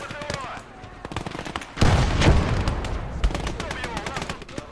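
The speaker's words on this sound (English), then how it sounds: "That's an anti-tank gun." Dense battle noise from a war video game set on a southern front, with an anti-tank gun firing amid steady crackling gunfire and a heavy booming surge in the middle.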